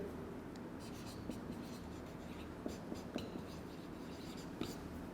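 Chalk or marker writing on a board during a statistics lecture, with soft scratchy strokes and occasional sharper taps spread irregularly over a quiet room, no talking.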